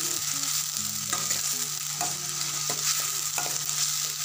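Curry leaves frying in hot oil make a dense, constant sizzle with rhythmic stirring clicks and scrapes, while a faint steady hum and soft tonal background sound runs underneath. No one speaks.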